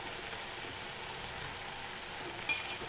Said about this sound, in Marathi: छान आपण आता हलवून घेऊया